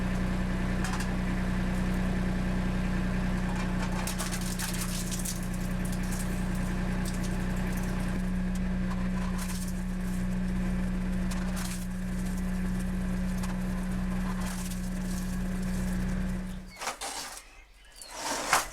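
A tractor-driven shredder for aluminum cans runs with a steady droning engine and mechanical hum for most of the stretch, then winds down and cuts off near the end.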